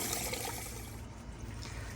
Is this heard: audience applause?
no